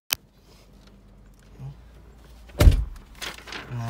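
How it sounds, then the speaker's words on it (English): The car door of a 2015 Dodge Challenger Hemi Shaker opens with a sharp click, then a louder mechanical thunk and rattle a few seconds later, close by. "Open the door so everything shuts off."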